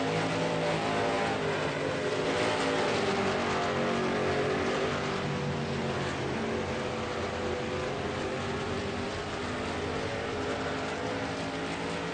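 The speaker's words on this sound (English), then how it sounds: "So we now have 17 cars lined up here or registered." Race cars driving a track at a Home Town Heroes hometown race meet give a continuous roaring engine drone, steady and loud throughout, with no one talking.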